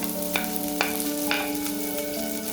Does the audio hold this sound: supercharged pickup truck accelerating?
no